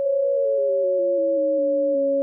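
A steady synthesized tone of two stacked sine waves, one an octave down, clean and pure, stepping gradually downward in pitch over a couple of seconds with soft pulses at each step.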